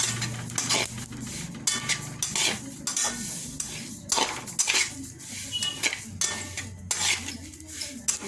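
Sambar spices dry-roasting in a pan at home, with repeated clinks and scrapes of a spatula or spoon against metal cookware and a faint sizzle beneath, close and steady throughout.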